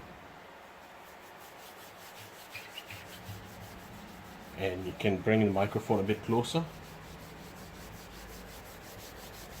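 Rhythmic scrubbing strokes of hand wet sanding on car paint, close and brief, following a voice speaking quietly over faint background hiss.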